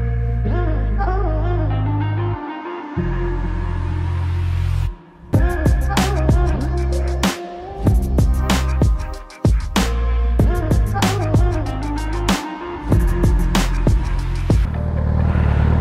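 Gen-2 Suzuki Hayabusa motorcycle on a night ride, engine droning loud and close, then rising through repeated revs and gear changes with brief drops and sharp bursts as it accelerates.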